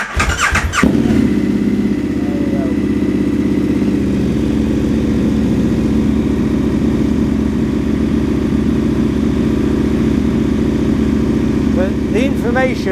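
A 2022 KTM 1290 Super Adventure R motorcycle starts up loudly close by. A brief crank catches into a steady, throbbing idle that continues to the end, with a voice briefly audible near the start and the end.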